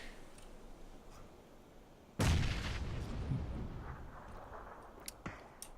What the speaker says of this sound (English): that was a very premature frag grenade